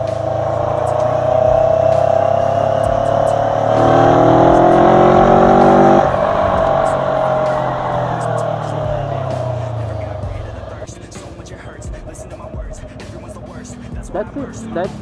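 A motorcycle on a test ride drones close by, its engine note rising and falling as it accelerates, then fading to a lower rumble, with someone talking over it.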